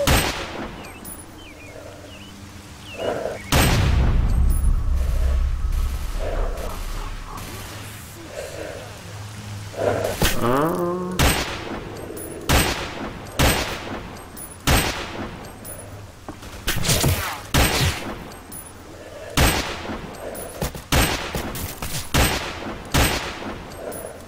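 Gunfire from enemies in the video game S.T.A.L.K.E.R. Call of Pripyat: a long run of sharp, irregular shots and short bursts, some loud and close, others fainter, over a steady rain-like background.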